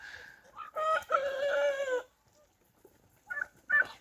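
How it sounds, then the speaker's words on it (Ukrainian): Close-up hen calls in a farmyard after laying: a loud drawn-out cackle, a pause of near silence, then a few shorter clucks near the end. "Курка несеться з самого ранку куткудакає."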